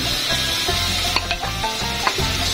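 Onion frying in hot ghee gives a continuous, close sizzle with light stirring and a few soft clinks of the pan over it.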